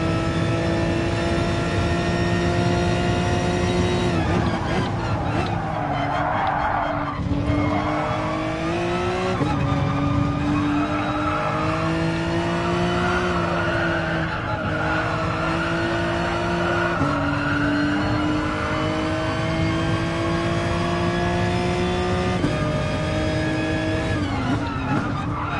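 Race cars lapping Barcelona in Gran Turismo Sport, with continuous loud engine whine that rises and drops through gear changes for the whole stretch, plus brief tire squeal and other cars passing nearby.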